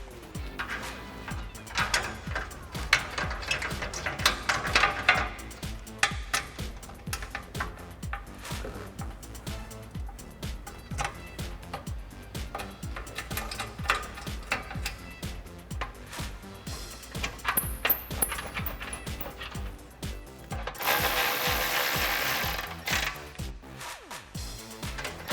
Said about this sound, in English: we'll go ahead and tighten it down with our 10mm socket